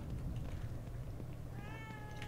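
A cat meows in The Evil Within 2, a few rising, wavering cries near the end over a constant low game ambience.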